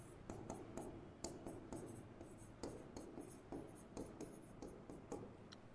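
Handwriting on a surface during a biology lesson makes repeated scratchy stroke sounds in quick irregular bursts, close and steady throughout, with no talking.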